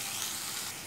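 Water with mustard and spice paste hits a hot pan while cooking pomfret curry, giving a steady, loud, close sizzle and hiss throughout with no voices.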